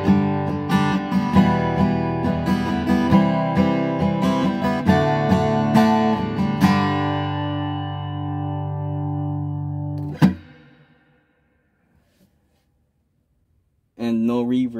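An electric guitar, with only the room reverb effect on and chorus and delay off, rings out chords and notes with a roomy reverb tail, then a single plucked note fades into silence before playing resumes.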